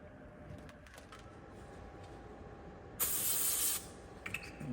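Brake cleaner sprays onto the drum of a 1950s GM 4104 bus in one loud hiss lasting under a second, set among faint clinks and a low background hum.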